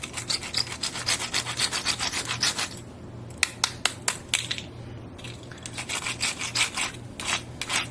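Rapid scratching of the wheels on a Barbie Flicker 'N Flash toy rollerblade to make it spark: a dense, rhythmic series of gritty rubbing strokes. There is a short pause midway, then the fast scraping resumes, close and loud.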